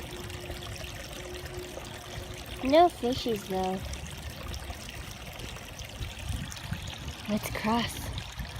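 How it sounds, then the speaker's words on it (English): A tiny waterfall trickles and pours steadily into a small stream, a soft continuous water sound outdoors, with people talking briefly over it. "Tiny waterfall."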